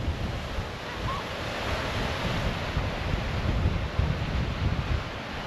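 Waves wash onto a Lake Michigan beach, a steady broad rush of surf mixed with heavy wind buffeting the microphone, with no talking.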